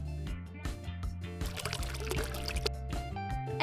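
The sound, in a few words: pouring jelly into a watermelon cup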